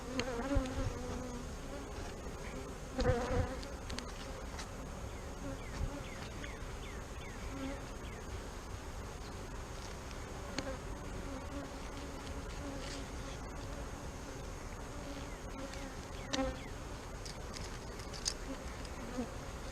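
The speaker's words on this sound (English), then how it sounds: "So if you can see, the bees are upset. They're flying around my head and around the front right here." Honeybees buzz around an open hive during an inspection of a home-grown queen colony, a continuous soft droning hum with individual bees flitting close by, steady and fairly quiet throughout, with no talking.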